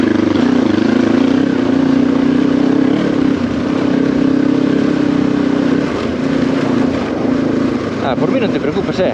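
A motorcycle engine drones steadily and loudly up close, its pitch holding fairly constant, with a shift in texture near the end.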